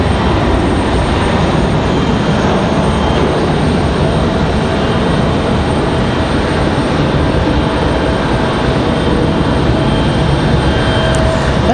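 A JetBlue Airbus A320 departing Raleigh-Durham International Airport, a heavy, steady roar of jet engines that holds loud and constant throughout with no voices.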